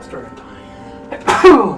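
A single sharp sneeze at the end, loud and close, coming right after brief speech during a tabletop role-playing game session.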